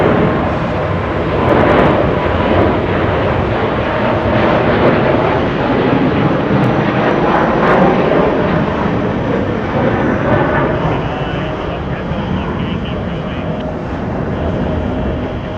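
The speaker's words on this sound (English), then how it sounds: "Joshua panning the camera to Japan Airlines 5 heading to Tokyo Haneda. Getting a move on for left departure." A Japan Airlines Boeing 777 bound for Tokyo Haneda departs from JFK, its engines making a loud, sustained roar that swells and stays strong throughout, with some voices faintly mixed in.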